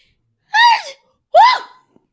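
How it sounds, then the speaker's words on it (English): Two sharp, close sneezes, each a quick burst of breath, separated by a short pause in otherwise quiet surroundings. "Sneezing."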